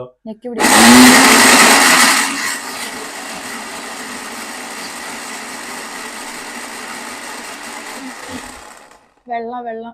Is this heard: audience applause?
no